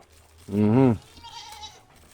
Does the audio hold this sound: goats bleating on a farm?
yes